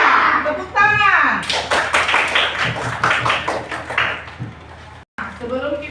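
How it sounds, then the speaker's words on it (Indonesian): Children in a primary school class clapping their hands in a chant pattern, loud, close rhythmic claps in bursts, mixed with young voices calling out and a brief thump near the end. "Tepuk tangan."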